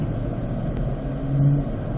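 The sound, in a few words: C8 Corvette driving at 35 mph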